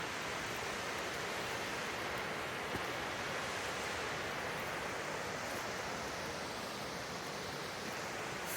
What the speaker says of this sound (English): Falling water.